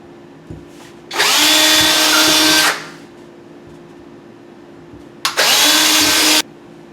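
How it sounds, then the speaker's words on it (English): A power drill bores into a wall in two bursts, the first about one and a half seconds long and the second shorter, both loud and close, with quiet room noise between them. "I would probably drill a new hole so I'd hit that stud"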